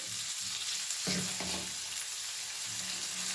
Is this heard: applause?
no